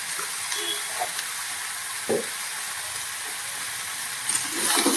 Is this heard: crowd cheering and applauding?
no